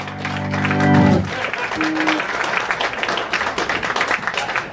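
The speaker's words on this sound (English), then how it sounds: "So why don't we give her a nice round of applause" A live lounge audience breaks into applause and cheering for a performer, rising after a brief sustained voice at the start and continuing as a loud, busy crowd clap.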